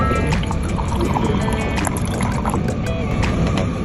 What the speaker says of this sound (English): So we will transfer the sample into a smaller beaker.